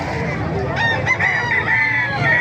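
Roosters crow and chickens cluck at a rural poultry market in Calumpit, Bulacan, where a loud crow rises over a busy background of other birds and faint crowd noise.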